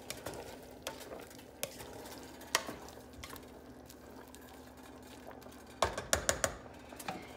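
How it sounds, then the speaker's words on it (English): A spoon stirs a simmering beef and vegetable stew in a pot, making faint, sparse clinks and scrapes that end in a quick cluster of louder knocks against the pot. "I want to give it a quick stir."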